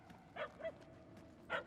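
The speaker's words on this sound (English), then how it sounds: "The barks are getting louder at least." A puppy in Marvel's Guardians of the Galaxy video game gives three short yips, two close together then one more after a pause, moderately near over quiet ambience.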